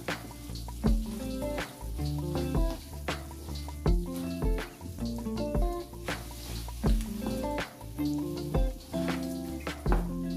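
Chicken, spinach and cheese quiche filling stirred in a pan, with soft squishing, scraping and light sizzling in an irregular rhythm, close and fairly quiet.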